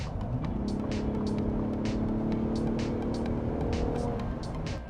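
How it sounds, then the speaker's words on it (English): A custom 2021 truck build with its exhaust in Baja mode roars steadily under acceleration, a loud, close engine drone with rising harmonics. A rapid series of sharp clicks and pops rides over the exhaust throughout. "Baja mode on the exhaust note, and watch this thing rip"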